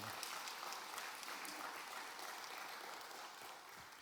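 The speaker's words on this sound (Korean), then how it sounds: "우리 크게 뜨겁게 박수하겠습니다" A church congregation at a Wednesday service applauds after a women's choir hymn, a steady dense wash of clapping from many hands that holds at an even level throughout before easing slightly at the end.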